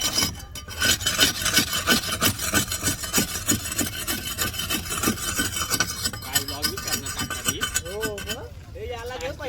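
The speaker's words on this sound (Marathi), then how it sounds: "बघा गौतम घासतोय." A wooden fishing boat is rubbed down by hand before painting, with steady rhythmic rasping strokes close by. Voices talk over part of it.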